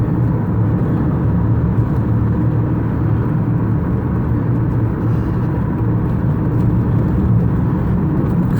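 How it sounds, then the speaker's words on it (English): A 1999 Toyota Camry with a V6, five-speed manual, TRD stainless exhaust and lowered suspension cruises in fifth gear, giving a steady droning engine and road roar throughout. "this is only in 5th gear, and it still gets up to 40 a lot better"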